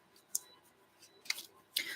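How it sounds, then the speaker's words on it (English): Tarot cards are shuffled in three quick, crisp riffling bursts against a quiet background, close and fairly soft. "shuffling the cards"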